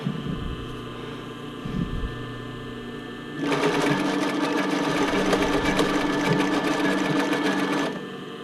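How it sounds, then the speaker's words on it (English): Sewing machine stitching elastic trim onto a brief, quiet handling at first, then a steady fast whirring run for about four seconds that stops abruptly, loud and close. "I think my machines are finally happy that I'm sewing again."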